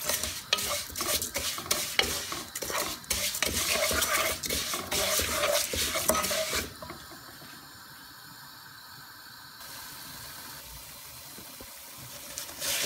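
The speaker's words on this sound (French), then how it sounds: "Je vais rajouter mes vermicelles. Il faudra les faire dorer." Vermicelli browning in clarified butter, stirred in a pan with rapid rhythmic scraping and clatter over a loud sizzle for several seconds, then a quieter steady frying hiss alone.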